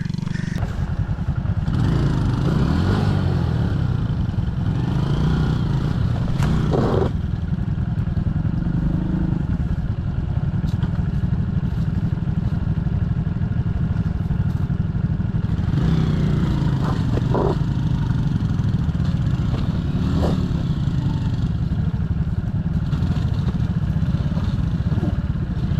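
Suzuki trail motorcycle engine running on a dirt trail, a loud, continuous engine drone with a couple of rising revs and some clatter, close and steady throughout.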